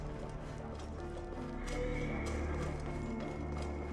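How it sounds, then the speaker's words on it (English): Steady hoofbeats of a horse in Assassin's Creed Origins clip-clop at a walking pace, echoing indoors, over a low ambient hum, with no talking. "My horse just waltzed into the gaff with me"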